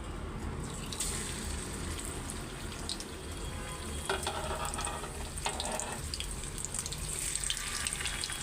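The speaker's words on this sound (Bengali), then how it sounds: "তো মাছটা আমি এখন ভাইজা নিব" Hilsa fish frying in a mix of mustard oil and soybean oil produces a continuous hissing sizzle, with a few louder spattering bursts partway through and no talk.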